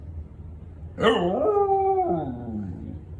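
A pet dog gives a single drawn-out howl that rises sharply, holds, then slides down and fades, close and clear over faint background hum.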